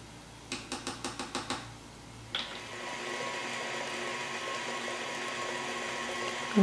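Pumpkin chocolate cheesecake filling being mixed with an electric mixer, which starts with a quick series of six or seven rhythmic pulses, pauses, then runs as a steady close whir that holds to the end.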